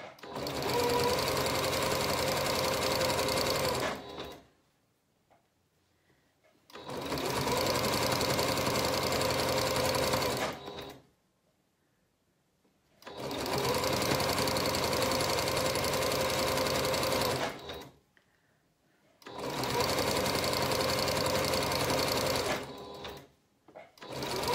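A sewing machine stitches a seam for a McCall's 7061 garment, running in four long, steady whirring bursts of about five seconds each, close by, with quiet pauses between them.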